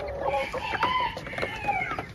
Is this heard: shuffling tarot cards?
no